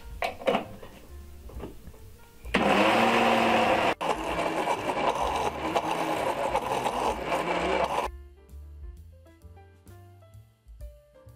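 Blender whirring loudly as it mixes dates and honey into a paste for date balls, running steadily for several seconds before cutting off, with music before and after.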